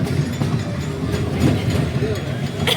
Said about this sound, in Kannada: ಬರೀ ಸ್ಲೋ ಹೋಗ್ತಾ ಉಂಟು ನಮ್ದು ಟ್ರೈನ್. ನಮ್ದು ಟಾಯ್ ಟ್ರೈನ್ ಸಹ ಮುಗೀತು.